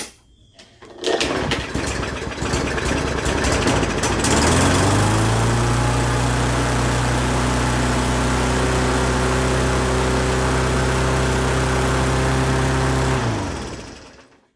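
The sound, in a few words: lawn mower engine running too fast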